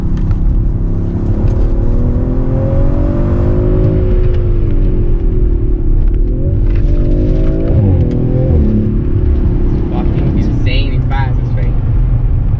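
An Audi RS5 engine revs and shifts on its stock exhaust, a loud, continuous drone rising and falling in pitch with crackles near the end, while a person talks over it.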